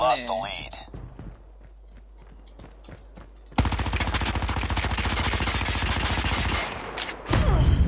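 Quiet footsteps and faint noises give way to sustained, rapid automatic gunfire in Call of Duty Mobile, loud and continuous, then a sharp burst of louder shots at the end.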